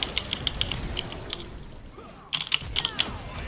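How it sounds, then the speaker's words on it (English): Someone rapidly mashes a computer keyboard while playing League of Legends, bursts of sharp, close key clicks in quick clusters, with a short lull in the middle before another flurry. "I hear you mashing your keyboard"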